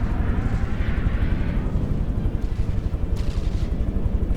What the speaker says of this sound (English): now we've got cannons firing in on the Polyglot Reverend